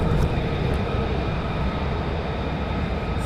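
Two F-35 fighter jets taxiing at Lakenheath, a steady, loud, broadband jet engine roar that holds constant throughout with no voices.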